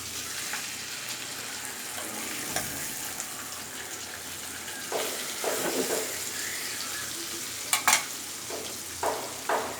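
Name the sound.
tilapia fish frying in hot oil, being flipped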